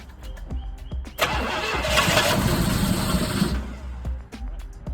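1965 Pontiac Grand Prix V8 cranking without choke, sputtering into a rough roar for a couple of seconds, then settling and dying back to faint clicks, nearby and fairly loud.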